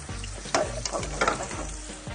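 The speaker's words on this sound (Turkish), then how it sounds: "Köfteler bayağı bir kızarması lazım." Meatballs for söğürmeli kebab fry in a pan, a steady close sizzle with scraping stir sounds and brief crackling bursts, no talking.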